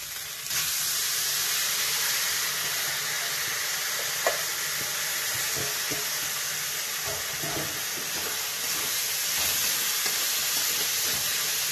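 Moong dal fries in a pan with garam masala, cinnamon, cardamom and green chilli, giving a steady close sizzle and hiss broken by a few soft taps and scrapes of stirring.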